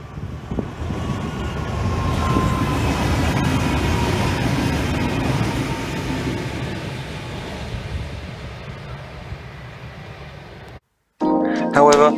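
A V/Line P class diesel locomotive runs on rails, producing a steady broad rumble with a faint tonal whine and heavy wind buffeting that slowly eases, ending in a brief dropout followed by a louder burst.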